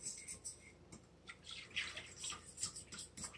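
Water trickles and splashes faintly into a bowl of low-fat chocolate cake mix, soft pouring and dripping sounds close by in a quiet kitchen.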